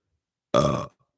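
One loud, close, voiced burp of about a third of a second, alone against silence.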